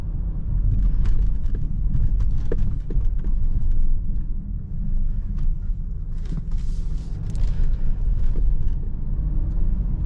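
A 2017 Mercedes-Benz GLC300 on 19-inch rims rolls over a badly broken road in Merrimack, New Hampshire at about 20 mph, giving steady low cabin rumble with scattered thumps and rattles from the suspension.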